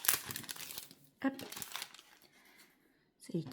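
Small paper wrappers from a Painting Fairy cross-stitch kit crinkle in brief rustling bursts during an unboxing, close and fairly quiet, alternating with a person talking.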